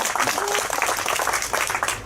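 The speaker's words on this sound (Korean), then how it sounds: "박수 한번 칩시다, 여러분" Applause from a crowd at a street protest rally, dense steady clapping lasting the whole moment with some voices mixed in.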